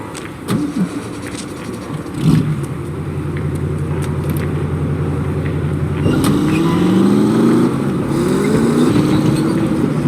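Car engine in the Saboteur video game, a steady low drone that rises in pitch as the car accelerates and shifts through gears, close and loud with no talk.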